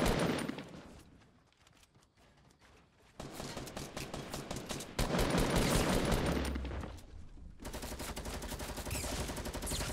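Gunfire in Fortnite crackles in dense rapid bursts, loud and close, with quieter stretches in between and no talk.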